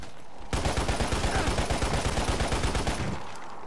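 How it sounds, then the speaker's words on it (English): Enemy automatic gunfire in the Lost Planet video game, a city warzone, bursts in suddenly and rattles on as a rapid, steady stream of loud shots for about three seconds before cutting off. "Oh crap, I'm getting shot at"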